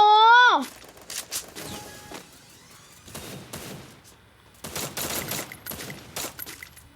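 Bursts of rapid gunfire in the mobile shooter Free Fire, several clustered volleys of quick shots with gaps between them, following a short descending electronic tone at the start.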